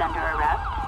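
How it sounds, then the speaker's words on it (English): A police car siren in the game LSPDFR, from a 2011 Ford Crown Victoria cruiser, wails in a brief loud sweeping tone over engine rumble. "Turn my siren off."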